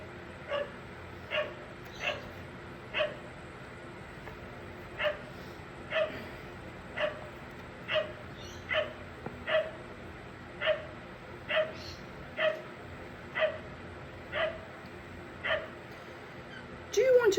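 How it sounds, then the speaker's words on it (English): Footfalls or soft sounds from a very large dog walking past outside come as a steady, evenly spaced series of faint taps, about fifteen of them, with a louder noise at the end. "Someone with a very large dog walking past."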